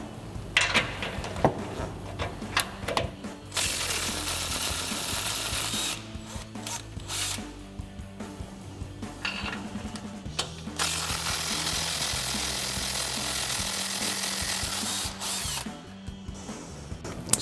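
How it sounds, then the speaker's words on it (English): A 3/8-inch impact gun loosening 15mm sway bar nuts on a Ford F-250 Super Duty, heard as loud, close bursts of rattling hammering separated by short pauses, with no talking. "I'm going to take my 15mm, my 3/8 gun, loosen these up, then loosen the other side up"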